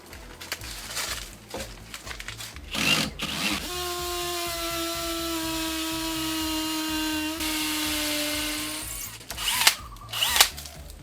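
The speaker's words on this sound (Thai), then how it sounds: "ทำการเจาะแล้วเรามาดูซิว่าการเจาะปูนในครั้งนี้มันจะเจาะเข้าแบบกับมอเตอร์บัตเลสที่ไร้แปลงฐานตัวนี้" A cordless brushless hammer drill in hammer mode bores into concrete, opening with short bursts before a sustained whining, rattling run of about six seconds, then trailing off into brief stop-start pulses; loud and close.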